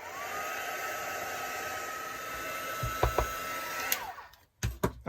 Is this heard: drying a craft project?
yes